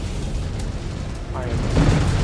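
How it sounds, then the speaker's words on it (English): In the Mechwarrior Clans video game, an incoming missile explodes as a loud, close rumbling boom that swells toward the end of a short burst. "Incoming missile."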